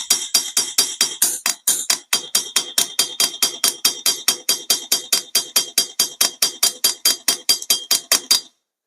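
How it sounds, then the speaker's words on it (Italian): A rounded hammer face strikes a nail in a long, steady series of sharp metallic taps, about four per second, close and loud, with no talk over it. "adesso continueremo a piccoli colpi così a picchiare finché non si deforma il chiodo"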